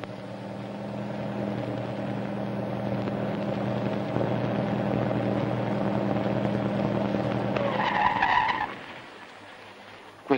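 A car in a 1952 Italian film skids, with a sustained broadband engine-and-tire roar that ends in a rising high screech around eight seconds before cutting out, loud and close, with no talk.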